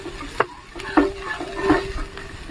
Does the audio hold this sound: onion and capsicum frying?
yes